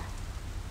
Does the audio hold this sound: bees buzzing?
no